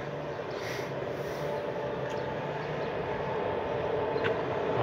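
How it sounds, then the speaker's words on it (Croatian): A freight train rolls past at a distance, a steady low rumble with a continuous rail hum that slowly swells in loudness over about five seconds. "Pravi teretni, sine, vidi ga."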